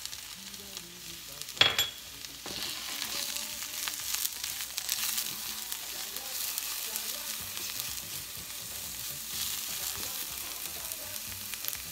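Oyster mushrooms sautéing with thyme in a pan alongside softened onions, a steady crackling sizzle with a sharp clatter near the start as they drop in, then even frying hiss close by.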